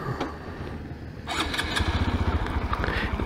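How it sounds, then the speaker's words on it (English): A 2014 Honda Grom motorcycle with electronic fuel injection starts up: a quiet rustle, then the starter cranks briefly before the small engine catches and settles into a close, steady putter. "I also like how it has the electronic fuel injection that makes it start up right away"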